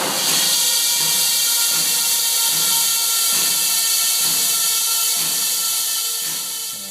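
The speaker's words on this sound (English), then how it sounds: "Pump hot water in it to dry it, and then clean air to steam out any of the moisture." Compressed air hisses steadily through a fire extinguisher cylinder to dry it after hydrostatic testing, a loud continuous rush with faint periodic pulses underneath.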